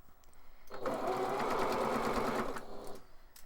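A sewing machine stitches through thick fabric layers of a face mask, running steadily for a few seconds with a fast mechanical whir, starting and stopping cleanly, close and fairly loud.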